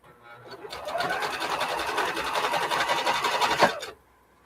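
Sewing machine stitching rope for a basket, a rapid steady mechanical whir with fast rhythmic ticking that starts, runs for about three seconds and stops.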